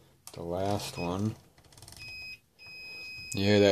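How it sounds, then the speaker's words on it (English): A tester beeps while its probes are raked across the pins of an LJ92-01601A Y-sustain board: thin, steady electronic tones come in short and longer stretches between and under a man's speech. "You hear that beep?"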